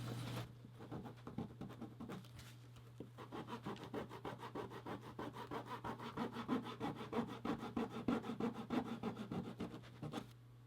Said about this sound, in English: So we have everything roughed up with our new little rougher thing.